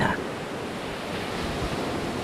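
Gentle sea waves wash up onto a sandy shore as a story sound effect, a steady soft surf hiss with no voices over it.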